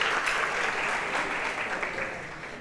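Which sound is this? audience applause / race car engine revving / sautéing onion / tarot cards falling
audience applause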